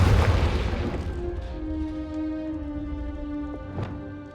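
A Confringo explosion spell in Hogwarts Legacy bursts with a loud booming crash that decays into a ringing tonal tail, followed by a second smaller impact near the end.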